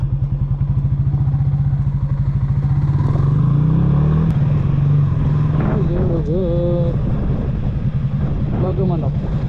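A motorcycle engine drones steadily at close range while being ridden on a rough road, its low throbbing pulse running throughout with wind buffeting the microphone, and a voice talks over it partway through.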